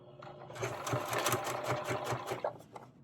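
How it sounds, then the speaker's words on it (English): A sewing machine back stitches an ironing board cover to close a small hole, giving a close, rapid, even run of needle thumps that stops and starts briefly near the end. "We're going to drop our foot, drop our needle. We're going to do a back stitch."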